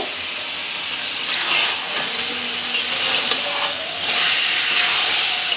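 Chicken cooking in a pan sizzles steadily as pieces of taro are added and stirred in, a continuous frying hiss with soft stirring scrapes, close and moderately loud, no voices.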